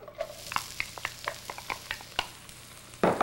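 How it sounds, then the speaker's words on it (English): Diced onion fries in olive oil in a hot sauté pan. A soft, steady sizzle sits under a quick series of sharp utensil taps and scrapes from stirring, ending in a louder burst. "We're going to add a diced onion"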